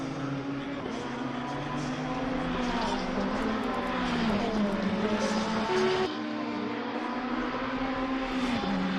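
Ferrari race car engine heard onboard in a sim-racing event at Suzuka, a steady loud drone with gear-change dips and another Ferrari running nearby, under continuous commentary.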